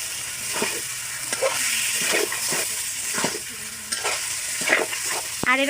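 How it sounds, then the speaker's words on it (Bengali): Marinated broiler chicken stir-fried with oil-fried spice paste, continuous close sizzling broken by repeated scraping stirs of the spatula, no speech. "দিয়ে কিন্তু বেশ কিছুক্ষণ কষিয়ে নেব।"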